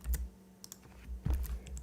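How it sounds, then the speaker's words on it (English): Keys clack on a Lenovo laptop keyboard in a few quick, faint strokes, close by in a quiet room, with a brief pause between two short bursts of typing. "Really hating this keyboard with the FN and the control being swapped around as well"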